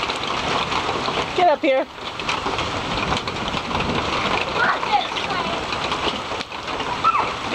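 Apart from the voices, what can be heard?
cold rain falling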